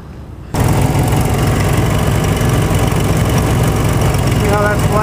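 A vehicle engine cranks and starts abruptly after a quiet moment, then settles into a steady, loud idle that runs on evenly, with a spark tester plugged in line on the spark plug.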